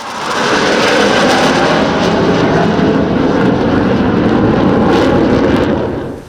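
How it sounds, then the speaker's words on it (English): A French Navy Dassault Falcon 10 MER jet flies past at a Malta airshow, a loud, sustained broadband engine roar that holds steady for several seconds before easing off at the end. "Another naval aircraft then, a Dassault Falcon 10 MER, part of the French Navy."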